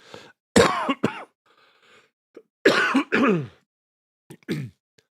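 A person coughs and clears their throat in several harsh bursts, with short pauses between them, close to the microphone.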